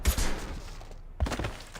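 Gunfire in Mass Effect 2 comes as two short clusters of close, punchy shots separated by a brief lull.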